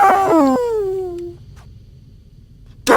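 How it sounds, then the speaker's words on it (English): A wailing, dog-like howl of agony from a demon in an audiobook, loud and close, gliding downward before fading into quiet, with a sudden loud noise at the end. "Cherubael let out an ear-splitting howl of agony."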